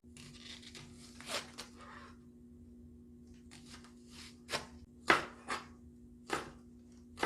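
A knife chopping green onion on a cutting board while preparing Korean braised flat fish, a handful of crisp, separate chops spaced unevenly over a faint steady kitchen hum.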